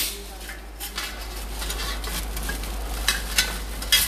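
Small spoons being handled and clinking together, with scattered bright metallic taps and a louder cluster of clinks near the end over a low steady hum, close by and with no talk.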